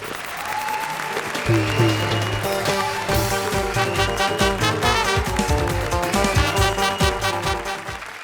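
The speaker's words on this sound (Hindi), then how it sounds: "बजा ताली।" Loud, sustained applause from a comedy show studio audience, dense clapping running the full length alone over a backing of stage music.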